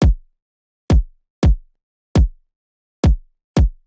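Dry drum and bass kick drum with no transient shaping, six isolated booming hits in an irregular pattern, each dropping in pitch and fading quickly into silence.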